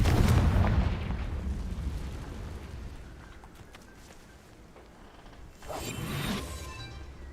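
A Confringo fire spell blasts in the video game Hogwarts Legacy: a loud booming explosion opens, fades into a low rumbling tail, then a second whooshing burst hits near the end.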